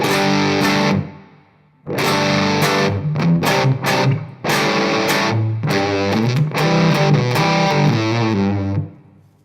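Heavily fuzzed electric guitar through a Spaceman Nebula fuzz pedal on its push-top setting plays a riff of chords and choppy stabs, loud and saturated, with a pushed, cutting tone and a short pause early on.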